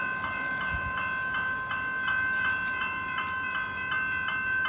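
An Sandringham line train in Melbourne moving past a railway crossing, with steady mid-range rumble and a regular rhythmic clatter of wheels running throughout, fairly close and alone without talk.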